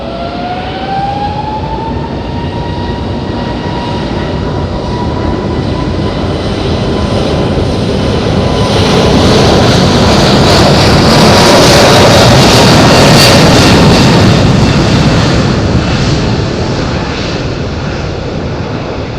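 A Wizz Air airliner taking off from runway 05 at Madeira airport, a loud, close jet roar that swells to a peak midway through and then eases slightly as it holds on.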